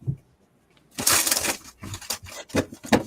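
A deck of playing cards is shuffled at close range in a few quick riffling bursts, crisp rapid flutters separated by short pauses, with no one speaking.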